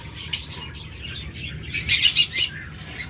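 A pair of green opaline lovebirds chirps close by in short high bursts, clustering into a rapid flurry of tweets near the end, with faint rustling between calls.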